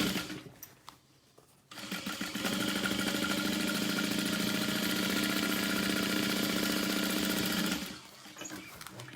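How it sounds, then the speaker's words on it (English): A sewing machine stitching a 1/4 inch seam along the bottom edge of a tote bag, running in one steady fast whir for about six seconds before stopping, with light handling sounds before and after. "we're going to sew along the bottom edge at a 1/4 inch seam allowance"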